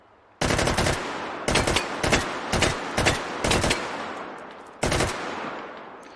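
An AK rifle fires on full auto in the VR shooter Hot Dogs, Horseshoes & Hand Grenades: a loud, close opening burst followed by several short rapid bursts of cracking shots, then a final burst after a pause, with no talk.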